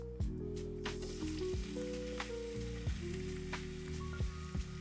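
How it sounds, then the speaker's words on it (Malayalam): Sliced onions sauté in oil with cinnamon, star anise, cardamom and cloves for Ambur biryani, a soft steady sizzle with a few spatula scrapes over a low steady hum, no voices. "അനിയൻസ് ഒന്ന് ട്രാൻസ്പെറൻ്റ് ആവണ വരെ സോട്ടേ ചെയ്യാം."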